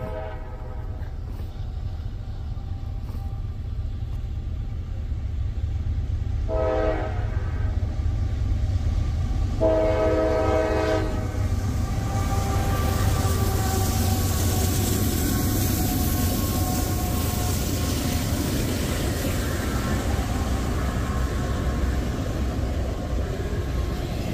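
An eastbound train rumbles steadily nearby in Ohio, with two short horn blasts sounding partway through over the continuous rolling noise of the cars.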